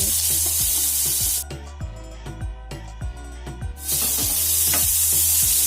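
Chopped onion, green chili and tomato sizzle loudly in hot oil, the hiss dropping briefly mid-way before returning, while a utensil scrapes and stirs in a steady rhythm.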